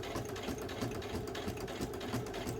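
A sewing machine runs a back stitch on a crisscross apron, its needle chattering rapidly and evenly at close range with a faint motor hum underneath, no voices.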